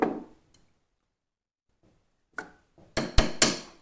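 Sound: hammer tapping pin into CZ 75B pistol

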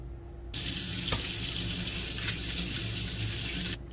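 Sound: water rinsing greasy bike parts

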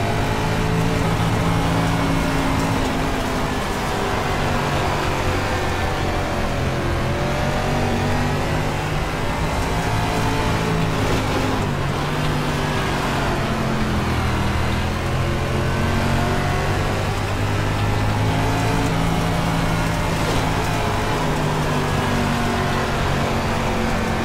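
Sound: late model race car engine in iRacing video game at Volusia

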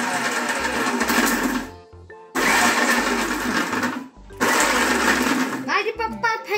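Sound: kitchen mixer grinder running

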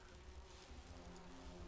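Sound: buzzing bees in the video game Grim Fandango Remastered

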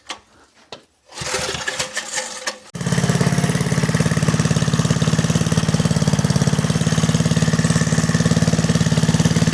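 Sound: Kirsch petrol generator engine running at low throttle

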